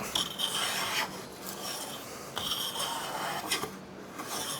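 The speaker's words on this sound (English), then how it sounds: "Taking some big, thick shavings here." Bedrock No. 5 hand plane shaving thick curls off a wooden board, giving steady loud rasping strokes that run almost continuously and close up, with brief breaks between passes and no talking.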